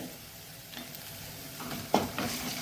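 Curry leaves and chopped coriander leaves fry in a pan for cashew masala, a soft steady sizzle with a couple of brief scraping stirs toward the end, heard close and without voices.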